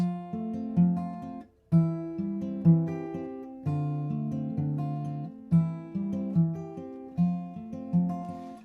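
Acoustic guitar fingerpicking a song in a steady, even pattern of plucked notes ringing into each other, played alone and close up.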